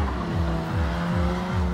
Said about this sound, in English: That was some drift like.